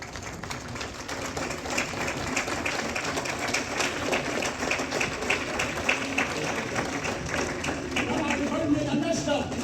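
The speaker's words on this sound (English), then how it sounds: "With a standing ovation and a round of applause, please." Applause and clapping from a crowd at a book launch in Ghana, a steady dense patter of many hands sustained for nearly ten seconds, with voices mixed in underneath.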